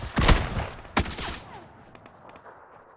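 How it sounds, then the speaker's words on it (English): Gunfire in the video game PUBG: two sharp, loud shots close together, followed by a spray of fainter, more distant rapid shots trailing off. "Someone else is shooting."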